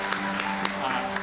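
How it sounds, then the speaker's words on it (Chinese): A church congregation claps to welcome a visiting pastor, a steady burst of applause from a gathered crowd filling the space, with voices mixed underneath. "首先咱来欢迎今仔日伫咱主日礼拜分享的陈永文牧师，咱用掌声来欢迎"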